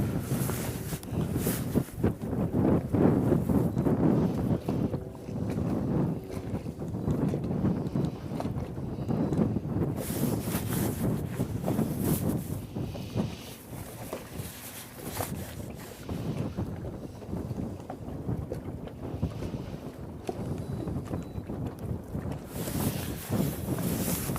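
Gusty wind buffets the microphone on the Mississippi River while fishing from a boat in spring, a loud, continuous rumble that rises and falls in waves, with no talk.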